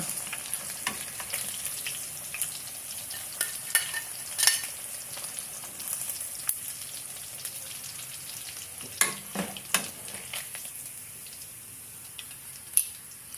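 Food fries in a pan with a constant bright hiss, broken by occasional sharp crackles and the clink of a utensil stirring, heard up close without talk.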